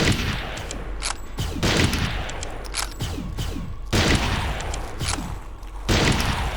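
Rapid bursts of gunfire in the remastered video game Turok 3: Shadow of Oblivion, loud repeated volleys of booming shots in quick succession with short gaps between them.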